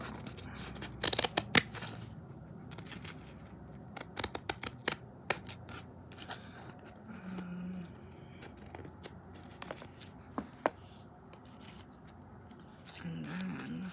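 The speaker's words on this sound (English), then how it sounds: "So we're just gonna cut a little square out." Scissors snip a small square out of paper at an artist's painting table, giving crisp, close, intermittent cuts and rustles in short bursts with pauses between them.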